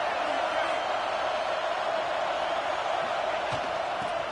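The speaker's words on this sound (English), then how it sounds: "This crowd bringing the energy and noise early." Steady stadium crowd noise from an NCAA college football video game, a continuous dense roar of many voices holding at an even level throughout.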